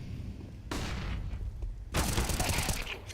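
MP9 submachine gun fire from a Counter-Strike esports match roars in two long, dense automatic bursts, loud and continuous, with a brief lull between them and no talking.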